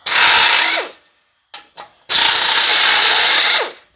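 Pneumatic air impact gun removing the bolts from a riding mower's blade spindle: two long, loud, harsh hammering bursts separated by a pause with a couple of brief clicks and clanks.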